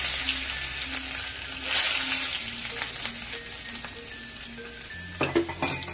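Garlic frying with cumin and mustard seeds in hot oil in a pan, steady close sizzle with a spoon stirring and a few clinks of utensil against the pan.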